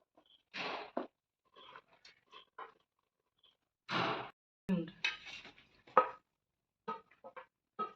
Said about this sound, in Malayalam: ഇതേമാതിരി ഇളക്കി യോജിപ്പിക്കുക